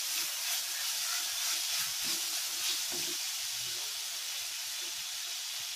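Grated potato and beetroot sautéing in a pan for a samosa filling, a steady close sizzle and hiss that holds evenly throughout with no talk.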